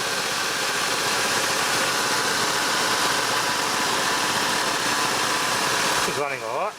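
A VS Ute car engine idling, a steady close rumbling drone that holds evenly for several seconds before cutting off near the end, with a voice briefly heard as it stops.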